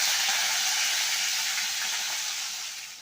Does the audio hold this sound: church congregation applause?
no